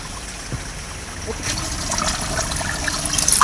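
Plain tap water being poured little by little into a cooking mix for banana-flower stir-fry in a Tamil home kitchen, a steady trickle that grows louder toward the end with faint background sounds.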